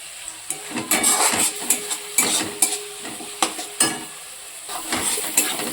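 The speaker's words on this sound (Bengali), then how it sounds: "মিডিয়াম ফ্লেমে এটাকে ভাজতে থাকবো যতক্ষণ না কাঁচা গন্ধটা দূরে যায়" Spice masala fries on medium flame in a pan for a Bengali egg curry, with a soft steady sizzle broken by regular scraping and clinking strokes of a spatula against the pan.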